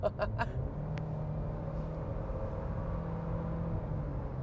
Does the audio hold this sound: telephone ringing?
no